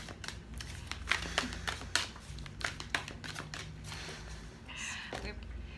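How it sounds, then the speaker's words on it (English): Tarot cards shuffled by hand during a reading, soft crisp riffling bursts and light flicks that come and go, close and quiet. "Okay, just shuffling."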